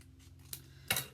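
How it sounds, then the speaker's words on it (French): Scissors snip through paper along a strip of double-sided tape for a stamped craft album page, giving two crisp, close cuts in an otherwise quiet room. "je vais recouper le long de mon double face pour avoir moins de papier"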